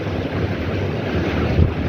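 Typhoon Ragasa in Macau: steady roaring wind with a dense, constant wash of heavy rain, buffeting the microphone throughout with a brief louder gust near the end.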